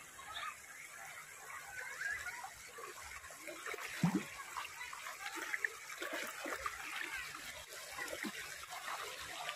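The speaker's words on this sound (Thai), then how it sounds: "น้ำไหลแรงมากเลยค่ะ" Fast-flowing floodwater rushes past in a continuous, moderately faint gurgling and splashing stream, with a few brief louder splashes and faint background voices.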